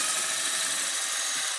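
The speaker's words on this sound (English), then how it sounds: "I'm just going to run it down the center of this bore on this drain saddle and drill it out" A 3/16 drill bit bores out the center hole of a drain saddle during an install, giving a steady, continuous high-pitched whir that stays close and loud for the whole stretch, with no talk.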